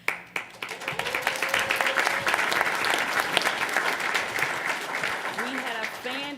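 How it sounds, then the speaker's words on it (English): Applause fills a school board meeting room as the class of 2026 is congratulated, steady dense clapping from a large audience with voices mixed in throughout. "continue the applause in the room"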